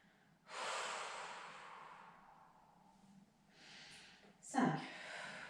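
A deep breath taken and held during a chair-based Pilates exercise, with a long airy inhale followed by a quieter stretch and a sharper, snort-like exhale near the end, close and clear.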